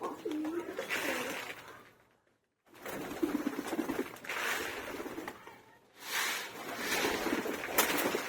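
Racer pigeons coo softly while feeding, their low murmuring calls rising and fading in bursts, with a brief quiet gap between groups of calls.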